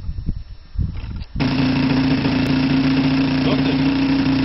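A small engine starts up and settles into a steady, loud drone that continues to the end, with a few muffled sounds just before it starts.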